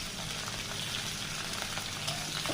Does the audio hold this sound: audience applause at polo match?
no